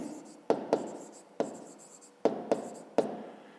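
Pen strokes and taps on a notebook page while an answer is written out during a fifth-grade maths exercise, several sharp marks in an uneven rhythm, close and fairly quiet, with no voices.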